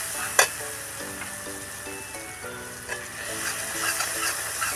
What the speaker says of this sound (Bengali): এটা ভালো করে ভেজে নেব মশলাটা